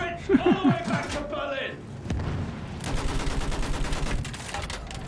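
Gunfire in the video game Battlefield 1, a burst of rapid shots followed by a rumbling stretch of continuous firing and explosions, with someone talking over the start.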